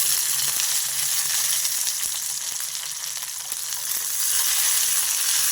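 Green chilies fry steadily in a pan over low heat for an Indian chutney, a dense continuous sizzle with faint scattered crackles and pops, close and uninterrupted.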